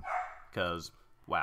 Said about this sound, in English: that's my dog in the background